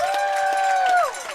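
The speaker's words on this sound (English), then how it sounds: "Give them a round of applause," A crowd cheers and claps while a long, loud whistle holds a steady pitch, then slides downward.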